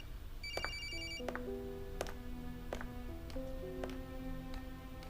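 A telephone rings with a bright electronic ringtone, repeating tonal bursts in a steady pattern over a low background hum, with no talking.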